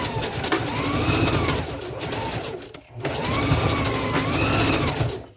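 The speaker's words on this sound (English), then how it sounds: "so we're gonna continue sewing the track" A sewing machine stitches the track of a closure wig, running loud and close in a steady whir, pausing briefly near the middle before starting again and continuing almost to the end.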